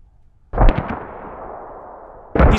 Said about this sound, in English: He's running into the mortars.